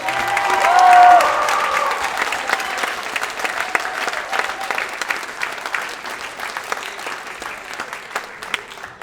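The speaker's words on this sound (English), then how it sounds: "Can we get a big round of applause for everyone?" Broad audience applause at a Frewsburg talent show, strongest near the start and then continuing as a steady wash of claps that slowly thins, with a brief tone briefly heard early on.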